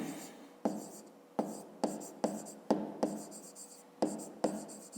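Pen writing out a fifth-grade math solution on paper, a close series of quick scratchy strokes, each starting with a sharp tap and trailing off, about eight in a row with brief pauses between them.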